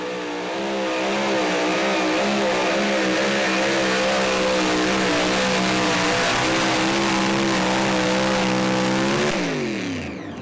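An unlimited super stock pulling tractor in the two-wheel-drive category, sponsored by Boyd & Sons Machinery, revs at a tractor pull in Saluda, South Carolina. It gives a loud, close, sustained roar with a wavering pitch, and the revs drop away near the end.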